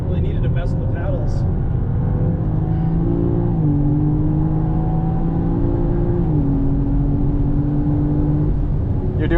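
Engine of a 2023 BMW M4 Competition in automatic mode, droning loudly and steadily from inside the cabin as it pulls through gear changes, with people talking over it.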